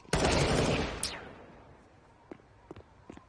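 Gunfire in a professional Counter-Strike match between NAVI and NIP, a loud rapid burst of automatic shots followed by a single shot and a few scattered, fainter distant shots.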